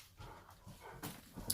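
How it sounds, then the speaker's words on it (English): A dog indoors gives several faint, scattered barks and whimpers, distant and low in level, with no speech over them. "My dog's gonna go off again."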